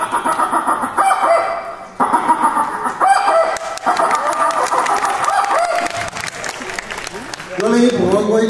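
A voice imitates a hen clucking after laying an egg during a comedy skit at a cultural fest, with repeated rising cackles over crowd noise and bursts of applause, plus speech mixed in.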